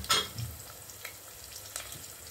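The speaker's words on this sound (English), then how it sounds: "I let it all fry, guys" Green chilies, mustard seeds and jeera fry in hot oil with a brief loud sputter at the start, settling into a quiet, steady sizzle close by.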